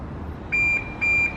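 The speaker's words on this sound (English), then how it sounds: "the alarm is going off and the main beams are flashing like crazy" Two loud, steady electronic beeps in quick succession, each about a quarter second long, from a BMW 1 Series car alarm in panic mode, over a low background rumble.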